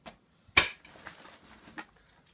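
A small metal cooking grill from a bug-out bag is handled, giving one sharp metallic clank followed by softer scrapes and a lighter knock, close up with no talk.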